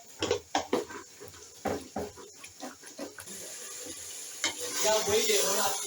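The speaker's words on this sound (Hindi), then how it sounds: "अब हम इसकी भुनाई कर लेते हैं थोड़ी देर" Green beans and potato curry being stir-fried in a pan, close scraping and clattering strokes from a spoon against the pan, followed by a steadier, brighter sizzle, no talking.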